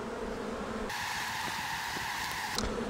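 Honey bees from a swarm being moved into a hive box buzz in a dense, continuous drone, shifting pitch abruptly as the mass of insects changes intensity, close and steady.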